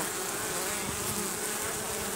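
Flying beetles and bees swarm in front of a beehive entrance, making a dense, continuous, close insect buzz that fills the whole moment without a break.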